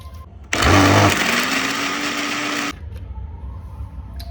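An electric mixer grinder whirs loudly for about two seconds while making ginger garlic paste, starting abruptly and cutting off, with quiet kitchen background before and after.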